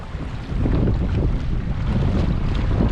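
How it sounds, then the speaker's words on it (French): Heavy wind buffets a GoPro Hero 9 Black microphone outdoors by a river barge, a low, rumbling roar that grows stronger after a moment and stays constant. "Là, il y a du vent."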